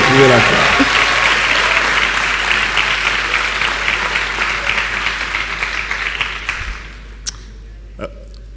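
Audience applause with some cheering at a masterclass event in Dakar, loud and sustained for about seven seconds before tapering off into a few scattered claps.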